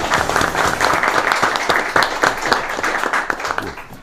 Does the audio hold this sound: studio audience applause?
yes